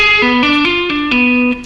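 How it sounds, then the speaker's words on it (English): Electric guitar with distortion plays a fast tapped string-skipping lick, a steady run of about seven clear pitched notes stepping up and down, loud and alone, ringing with chorus-like effects and a touch of reverb. "This is one of my favorite string skipping tapping licks"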